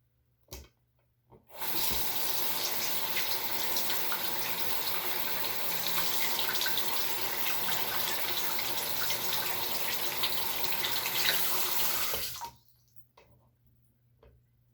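Water runs steadily from a sink tap during handwashing, a continuous close hiss lasting about ten seconds before it cuts off abruptly, with no talking.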